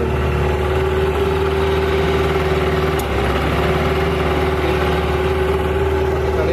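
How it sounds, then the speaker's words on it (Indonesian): A Suzuki 9 HP outboard boat motor idles steadily near Pontianak's Kapuas River, a constant close hum with a strong low drone and no break in rhythm, heard alone without talk. "Ini mesin Suzuki itu."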